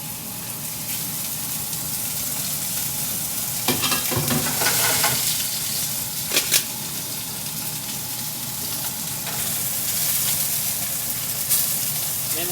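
Rub-seasoned dove meat frying in olive oil on a stovetop, a loud, dense, steady sizzle with occasional bursts and utensil clatter, no one talking.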